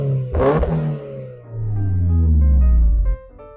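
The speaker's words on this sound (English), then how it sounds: "we are gonna get an idea of how it sounds when you start it up" A Toyota GR 86 engine cranks and fires with a sharp starter burst, then settles and swells into a smooth rising idle, close and loud, with no talk.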